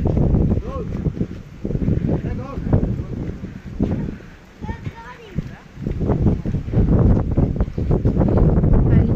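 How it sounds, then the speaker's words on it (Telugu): Strong, cold wind at a boating spot buffets the microphone in heavy, gusty rumbles, while people talk intermittently underneath. "ఎంత చల్లటి గాలి వస్తుందో"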